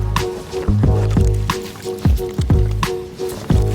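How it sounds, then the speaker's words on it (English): A paddle drawn through shallow water in a river channel while clearing floating pennywort mats, giving close, wet squishing and sloshing strokes that repeat in a steady rhythm, each with a low gurgling swirl. "move the paddle"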